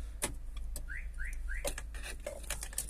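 Three quick rising bleeps from a StarLine S Series alarm on a Vauxhall Vivaro van in even succession, fairly faint, amid scattered clicks and background noise.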